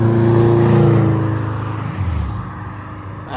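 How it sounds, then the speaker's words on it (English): A Honda S2000 sports car pulls out of a street car meet, its engine note loud and close at first, then easing and fading as it moves off, with a short rising rev near the middle. "Got an S2K coming out."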